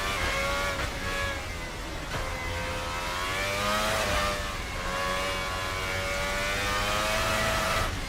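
A V12 engine in a Formula Hybrid race car from a racing sim game, revving loudly and steadily with rising and falling pitch through gear changes, close and continuous with no talk over it.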